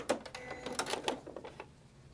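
A domestic sewing machine stitching quilt block pieces runs in a quick burst of rapid mechanical clicking and then stalls as it fails to sew because of a badly wound bobbin. The sound is close and brief, with no talk.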